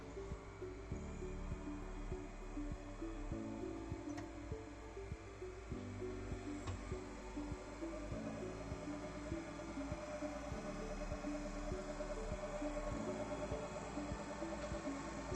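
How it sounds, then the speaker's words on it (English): A DC motor drives an induction generator on a lab test bench, producing a steady low mechanical hum with a faint throbbing drone that runs continuously at moderate level, with no talk. "Switch on the DC motor."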